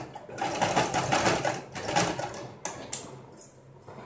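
Sewing machine stitching pleats into a designer sleeve, with bursts of fast, even stitching separated by short pauses and small clicks, close and fairly loud, no speech.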